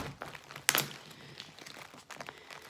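Plastic packaging of an embroidery kit crinkles and crackles as it is unwrapped, with a sharp rustling burst early on and quieter scattered crinkles after, close and faint, no voices.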